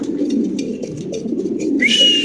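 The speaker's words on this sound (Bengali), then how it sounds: "খুবই চঞ্চল কবুতরগুলো দেখেন" Fancy pigeons in a market pen give close, loud, rolling coos in a continuous throaty murmur, with faint chirps and a brief high squeal near the end.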